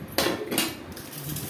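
A bowl and dishes clatter in a home kitchen. Two sharp clinks of crockery are heard close by, with lighter handling noise after them.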